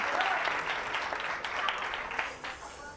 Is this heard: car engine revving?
no